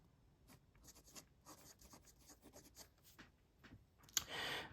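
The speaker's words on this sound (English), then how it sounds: "I'll try and do a little bit of flex writing just to give you an idea" A wet fountain pen flex nib scratches across paper in short, quiet strokes with brief pauses between them. A louder rasping stroke comes at the end.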